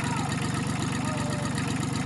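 A Kubota L2002DT tractor with a D1302 20 hp diesel engine runs steadily after being restarted, a close, loud, rapid rhythmic idle chug with no talking over it.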